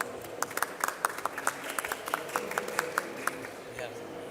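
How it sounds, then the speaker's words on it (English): Audience applause welcoming a city mayor from Baguio City, Philippines, at a smart cities forum; scattered, fairly light claps in an irregular rhythm heard from a moderate distance in a large hall. "Please welcome him with a big round of applause."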